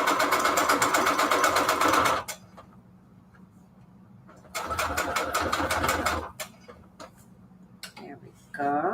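A sewing machine back stitches fabric scraps for index cards, running close and loud in two rapid mechanical bursts of about two seconds each, separated by quiet pauses, with a brief restart at the very end.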